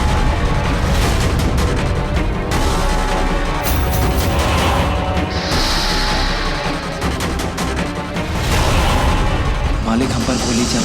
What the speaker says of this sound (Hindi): मालिक हम पर गोली चला रहे हैं